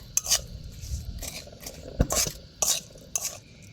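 A coconut and jaggery filling is stirred in a pan over low heat, with a spoon scraping in bursts, a faint sizzle underneath and the odd clink against the metal, close up and without talk.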